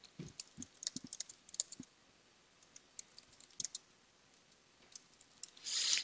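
Someone types on a computer keyboard in a quiet room: soft, scattered clicks in irregular bursts with short pauses, ending in a brief louder rustle.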